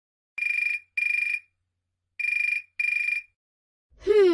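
A telephone bell rings in two pairs of short electronic bursts, loud and close against silence; a voice starts just as the ringing ends.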